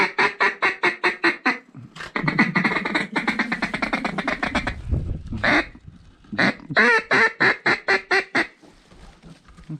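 Many ducks quack loudly and steadily over a flooded corn field during a hunt, with rhythmic calling bursts broken by a busier stretch of overlapping quacks and wing noise in the middle.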